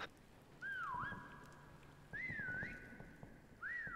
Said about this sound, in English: Yo, stop whistling